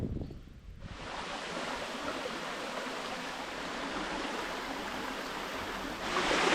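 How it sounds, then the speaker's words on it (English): Rushing waterfall on a river at Suchitoto, El Salvador, heard from right at its edge: a loud, steady broadband roar of falling water that continues throughout, swelling slightly near the end, with no voices. "this is the first time I can officially say I'm stood right on the edge of a waterfall"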